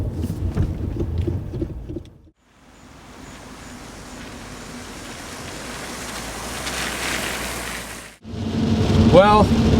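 MINI Cooper S cruising on a highway in heavy traffic on a rainy day, a steady swelling wash of tire spray and road roar that cuts out briefly twice, with someone talking over it.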